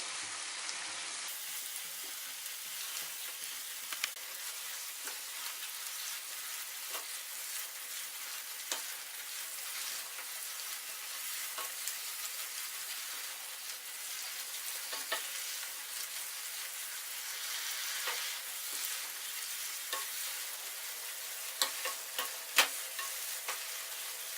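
A spoon steadily stirs bottle gourd halwa with milk reducing in a frying pan over high flame, giving a soft continuous sizzle with faint scraping taps recurring throughout, close and quiet, with no talking.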